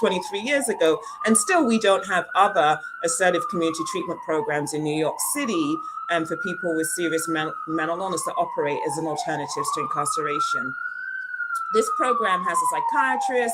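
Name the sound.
emergency vehicle siren passing outside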